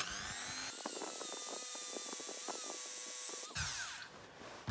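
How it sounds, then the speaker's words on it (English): A small felt polishing wheel on a rotary tool spins against a die-cast toy car wheel, giving a continuous high whine with shifting pitch and brief scraping contact, ending with a burst of louder grinding. "I'm just going to use this little felt wheel."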